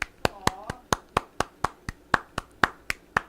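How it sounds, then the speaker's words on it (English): Sharp, evenly spaced hand claps, about thirteen in a steady rhythm, sound close and clear as applause for a musician at a live show, with little else around them. "let's just give him some applause, will you?"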